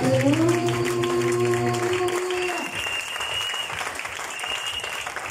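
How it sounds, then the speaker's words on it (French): A church congregation claps loudly and continuously, with a sung or shouted voice held over the start before fading into sustained applause. "Acclame pour la gloire de Dieu"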